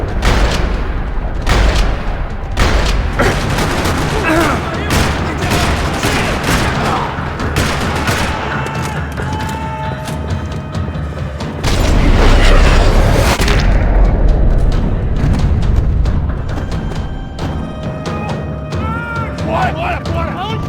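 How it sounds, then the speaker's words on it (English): Dense gunfire rattles through a parking lot in Max Payne 3, rapid overlapping shots and heavy booms crowding close and loud, with a voice talking over the chaotic shootout. "Another parking lot rattling with gunfire."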